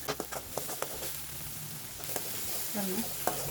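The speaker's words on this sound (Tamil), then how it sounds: "வதங்கிட்டே இருக்கட்டும்." Chopped onions sauté in hot oil for a Sankara fish curry, giving a steady close sizzle broken by a few light spatula scrapes and taps against the pan; no one speaks.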